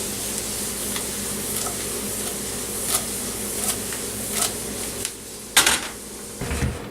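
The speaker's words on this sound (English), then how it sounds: "I'm going to go ahead and give these vegetables a quick saute." Vegetables sautéing in a pan, a continuous soft sizzle with light scraping stir sounds and occasional sharper clicks of a utensil, close by with no talking.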